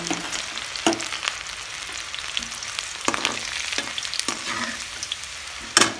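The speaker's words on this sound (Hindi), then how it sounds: "ये लो जीरा, जीरा डल गया, ये डाल दिया, जीरा डाल दिया मम्मी ने, उसके बाद लहसुन डाल दिया" Cumin and garlic sizzle in hot oil in a home kitchen, a continuous frying hiss broken by several sharp stirring clinks and scrapes of a utensil against the pan.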